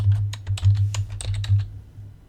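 Quick irregular keystrokes on a computer keyboard as a password is typed in, close and clear over a low steady hum, fading out after about a second and a half.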